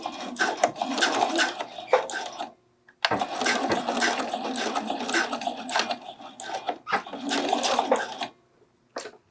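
A domestic sewing machine stitches forward and back on a bralette to secure the seam, running in fast whirring bursts with a short pause between them and a brief final tap at the end.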